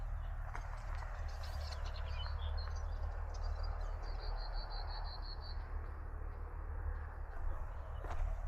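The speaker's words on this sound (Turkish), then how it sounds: "Bir yerlerden çok güzel bir kuş sesi geliyor." Birdsong in Karacalar village near Savaştepe: a short series of rapid, high repeated chirps rises midway over a steady low outdoor rumble, with a few scattered faint calls around it and no talking.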